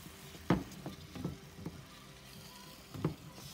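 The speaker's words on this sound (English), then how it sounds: "So I'm going to stir it up." Homemade playdough mixture being stirred in a pot on the stove, a few scraping strokes with soft sizzling underneath, close and fairly quiet with pauses between strokes.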